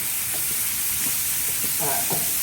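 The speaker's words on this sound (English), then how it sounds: "We're going to throw down our andouille sausage." Andouille sausage sizzles steadily on a Blackstone griddle, a constant loud frying hiss with occasional scraping and stirring sounds, heard close up and without talking.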